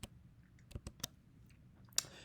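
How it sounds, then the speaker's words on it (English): Sparse keystrokes tap on a computer keyboard while code is entered in a terminal, a handful of quiet irregular clicks with one sharper hit near the end. "And I'm going to start typing some of this stuff in."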